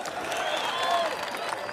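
Sustained clapping and crowd noise at a Kenyan political campaign rally, continuous applause with someone speaking over it.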